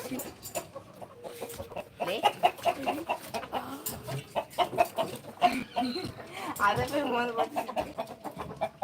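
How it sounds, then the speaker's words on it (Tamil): Chickens cluck on and off nearby on a rooftop terrace, mixed with people talking over them and some background bustle. "அங்கேயும் ஒரு கோழி இருக்கு"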